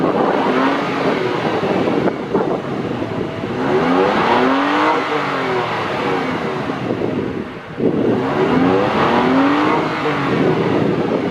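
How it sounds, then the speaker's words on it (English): A Toyota Tacoma pickup engine revs hard twice at close range. Each rev climbs in pitch, holds, then drops back to idle between the pulls, and no one speaks. "get a couple nice little revs"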